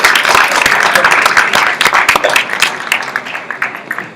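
An audience at a high-level UN global partnerships forum panel claps steadily, the applause fairly loud and dense at first, then thinning and fading over a few seconds.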